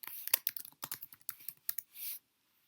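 Quick bursts of clicky keystrokes on a computer keyboard as a new to-do task is typed into a task app, a close, uneven patter of taps ending in a short soft rustle, with no talk.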